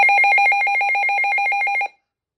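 A weather radio's alarm siren sounds as a loud, rapid warbling electronic tone, steady and close for about two seconds before cutting off abruptly, with no other sound.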